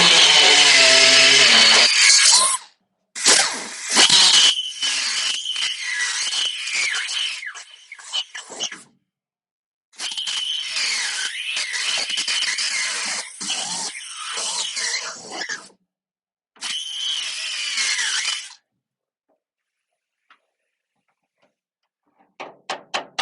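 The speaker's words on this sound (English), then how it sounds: "die grinder, and it's just a 7/16 straight cutter, I believe" Die grinder fitted with a 7/16 straight cutter grinding out a spot weld on a classic car body, loud high whining bursts that start and stop several times, separated by short silences, with no talk.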